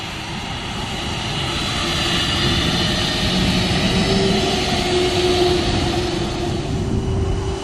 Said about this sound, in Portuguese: Vai virar a turbina bem pra cá.